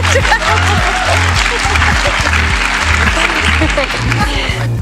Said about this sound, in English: Go on, applaud if you want.